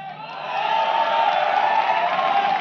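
An audience claps and cheers, a dense, sustained wash of applause that swells slightly and holds steady.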